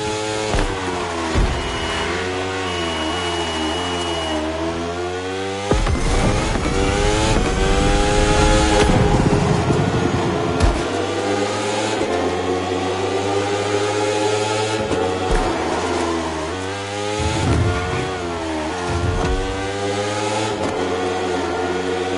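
Rally car engine roaring and revving continuously through a race in The Crew Motorfest, loud and up close with rising and falling pitch sweeps as it accelerates and shifts gears, heavier surge midway.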